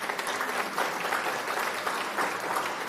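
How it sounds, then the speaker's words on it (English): Audience applause at a joint special city council meeting of San Dimas and La Verne, a steady dense clapping that fills the room continuously without letup. "So, round of applause for Chris."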